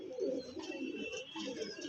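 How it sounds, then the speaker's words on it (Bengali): Two fulshira pigeons coo in low, rolling phrases that run continuously and fairly close, with faint higher chirps and background hiss above. "দুটো ফুলসিরা পায়রা দেখাচ্ছি দেখুন"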